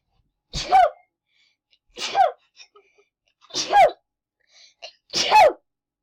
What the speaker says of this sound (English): I really need to sneeze.